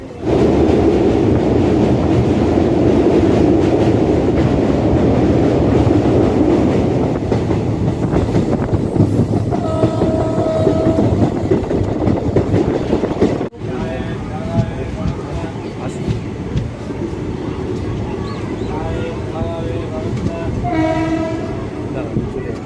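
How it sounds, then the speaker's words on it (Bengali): A train departs Naihati station towards Bandel, rumbling steadily with clattering wheels, two horn blasts sounding mid-way and again near the end, with voices faintly audible in the carriage. "নৈহাটি স্টেশনের দু নম্বর প্ল্যাটফর্ম থেকে আমাদের ট্রেন ছেড়ে দিল"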